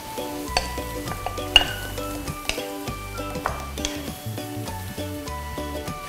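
Broccoli, smoked beef and macaroni stir-fried in a pan, with a spatula scraping and clinking against the metal in an irregular run of strokes over steady sizzling, close and fairly loud, no voices.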